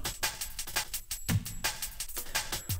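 A simple drum loop plays steadily with sharp, regular hits and occasional deep kick thumps, with no one talking.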